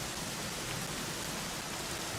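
Heavy rain in Dragon Quest XI falls as a dense, even hiss with no breaks and no voices.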